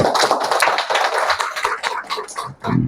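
An audience claps to welcome a speaker at a talk for defence-sector participants from the air force, navy and army. The applause is dense and steady, with a brief dip near the end.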